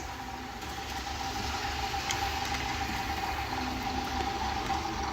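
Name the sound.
KR Models BR 10100 Fell model locomotive engine idling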